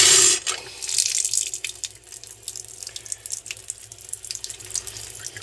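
Water gushes steadily from an RV water filter tap, flushing out excess charcoal, a bright continuous hiss with small splashing fluctuations, close by and without voices.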